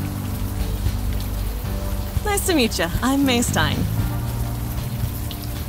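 Steady rain falls throughout a scene in the video game Unavowed, a constant broadband hiss running under game music and a voice speaking briefly in the middle.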